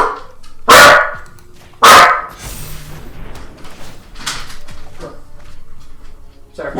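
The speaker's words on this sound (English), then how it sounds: "My dog's battering the dog outside" A pet dog barks loudly indoors at another dog outside, two sharp heavy barks close to the microphone followed by quieter scuffling and faint background sounds.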